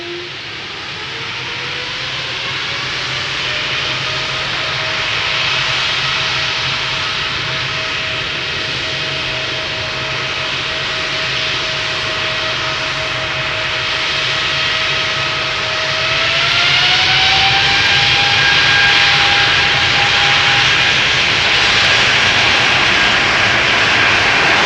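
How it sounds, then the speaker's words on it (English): A Boeing Dreamliner jet at snowy Amsterdam Schiphol Airport, its engines roaring steadily with a rising whine that climbs in pitch partway through and grows louder near the end, heard alone without voices. "And that's a Dreamliner in the background that you see,"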